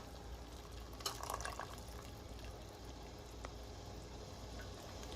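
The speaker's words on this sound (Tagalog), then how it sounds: "ilipat natin siya sa strainer para may alis natin yung konting tubig" Water and boiled vegetables splash into a kitchen strainer, with a short burst of pouring and draining early on, then faint trickling under a steady, quiet background hiss.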